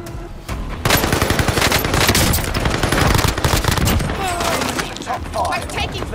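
Rapid automatic gunfire from a battle royale video game, dense volleys of loud, sustained shots with brief pauses, continuing throughout with voices talking in the background.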